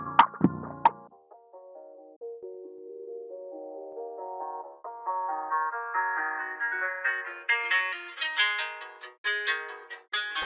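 Contact guitar melody pitched down an octave as a beat outro, opening with a couple of sharp plucked hits, then a quiet gap before a wandering line of notes that climbs gradually and grows louder.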